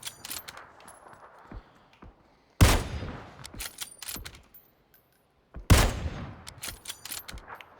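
Gunfire in the battle royale video game PUBG, two sharp loud volleys of rapid shots a few seconds apart, with fainter scattered cracks and clatter between them, and no talking.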